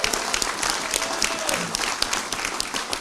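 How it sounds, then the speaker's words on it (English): Audience applause in a church healing service, dense steady clapping from a crowd for about three seconds, close and lively, with no voices rising above it. "Someone give Jesus a clap."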